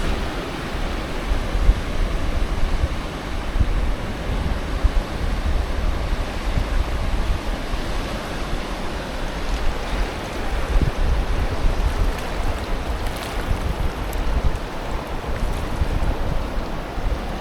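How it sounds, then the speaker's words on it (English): Ocean waves break on a beach at low tide while wind buffets the microphone, making a continuous loud roar of surf with no speech. "waves to the right of me."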